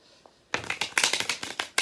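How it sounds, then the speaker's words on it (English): Tarot cards being shuffled by hand: a faint tap, then a quick run of crisp, riffling card flutters and slaps in close, uneven bursts, with no voices. "I'll give it a couple more shuffles and then we'll get started."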